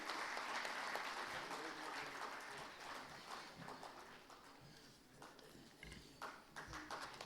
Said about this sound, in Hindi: आपकी तालियां बजती रहनी चाहिए।